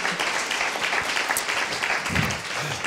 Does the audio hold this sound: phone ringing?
no